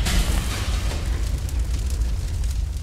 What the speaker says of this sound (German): Oh, das explodiert.